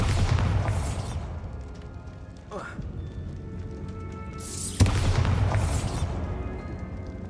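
Two forceful blasts from the Bombarda spell in Hogwarts Legacy, each a sudden booming burst with a bright crackling tail, spaced several seconds apart, with a swooshing magical whoosh between them and a voice speaking.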